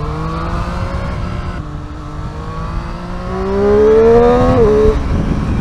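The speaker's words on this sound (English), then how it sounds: "That induction noise." A 2023 Triumph Street Triple R engine drones and rises in pitch as it accelerates, with a loud intake roar swelling, then briefly dropping at a gear change.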